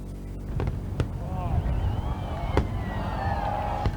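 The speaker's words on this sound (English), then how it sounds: "people are lighting up the sky with fireworks" Fireworks bursting during Diwali celebrations, with a few sharp cracks and pops standing out over a steady crowded din of voices and whistling, rising streaks.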